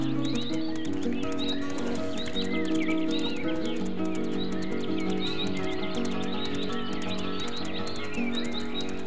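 Horse hooves clip-clop in a steady rhythm in the Mein Pferd riding game, with a short whinny near the start, over a continuous layer of game music and ambience.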